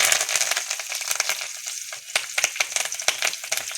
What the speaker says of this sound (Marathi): त्यानंतर जिरा जिरा पण चांगला तडतडवून घ्यायचा खमंग अशी फोडणी करणार आहेत आपण आणि त्यामध्ये कडीपत्ता